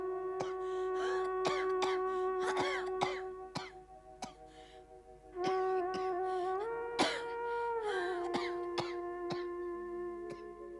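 A person with a persistent, asthma-like cough gives repeated short coughs and throat-clearing bursts in an uneven rhythm, over a sustained wavering melodic tone.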